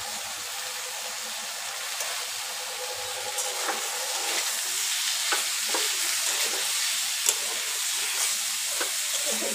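Spices for ghugni are stir-fried in a pan, making a continuous close sizzle with scattered ticks and scrapes from stirring, at moderate loudness and without voices.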